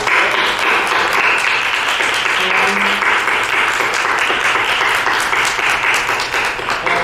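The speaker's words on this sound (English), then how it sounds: "so he should get a big applause" An audience at an arangetram dance recital gives steady, sustained applause, dense and even throughout with no break.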